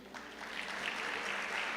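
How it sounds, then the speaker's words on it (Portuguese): Applause from a church congregation during a sermon, a soft, distant, continuous wash of clapping that swells slightly and holds steady. "Uma salva de palmas para a mídia."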